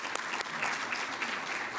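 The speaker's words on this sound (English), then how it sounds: "Let's give a round of applause to Zach." An audience applauds Zach at an NC Ed Lab education event, a dense, steady wash of many hands clapping for nearly two seconds, with a few sharper claps standing out near the start.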